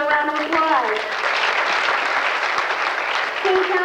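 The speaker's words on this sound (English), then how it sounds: "Let's give her a round of applause." Audience applause for State Representative Georgette Valley, who represents West Seattle, at an event on the saved and reopened Admiral Theater; steady, loud clapping fills the room throughout, with a brief tonal voice or music at the start.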